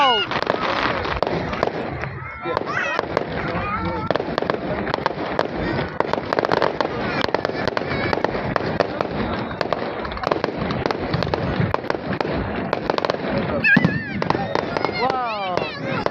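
Fireworks crackle and pop densely and continuously at a nighttime show in Mildura, with a crowd's scattered reactions mixed in. The bursts are fairly distant and moderately loud.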